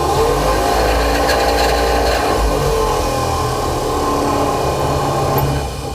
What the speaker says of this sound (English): The blower works.